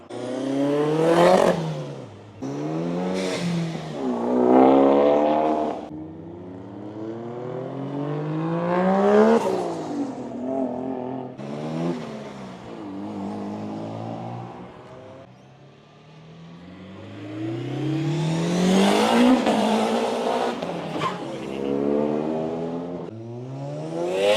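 An Audi RS3 8Y launches and revs at a Brisbane cars-and-coffee meet, with repeated rising engine sweeps that climb sharply, ease off, and build again across several loud bursts.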